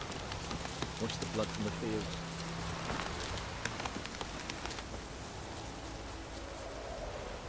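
Steady rain in The Witcher 3: Wild Hunt hisses across the whole clip, with a voice speaking over it and a low sustained tone underneath.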